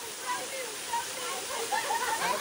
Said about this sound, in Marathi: मित्रांनो आलो धबधब्यावर.